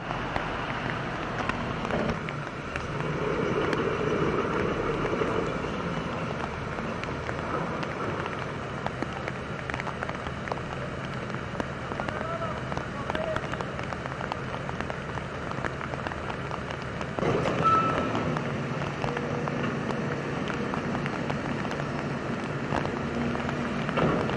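Heavy rain shower turning into a thunderstorm pours steadily and loudly for the whole stretch, a dense unbroken hiss of drops on surfaces with no voices over it.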